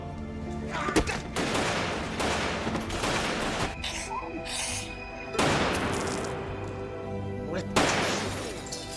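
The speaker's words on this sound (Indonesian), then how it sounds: "Dan terjadilah baku tembak yang tak terelakkan." Gunfight in a gangster film: repeated bursts of gunfire and clattering impacts crack out in several loud volleys, with crashing debris between the shots and no talking over them.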